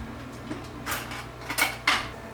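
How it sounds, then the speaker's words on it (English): A spoon scrapes and clinks against a metal muffin pan while thick cinnamon-sugar donut batter is scooped in, giving a few short, close scraping knocks. "the batter seems pretty thick, so I guess I'll use a spoon to get it in"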